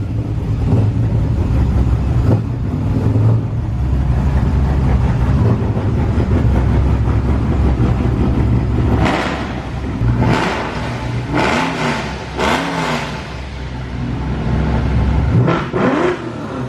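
A nitrous E85 car engine cold-starts and runs at a loud, steady idle, then revs in several sharp blips near the end, close and alone.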